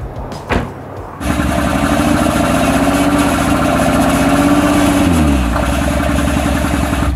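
A Honda Pilot with a misfire and a broken 4x4 system cranks and catches after a second of clatter, then settles into a loud, steady close-up idle. The engine note sags slightly near the end.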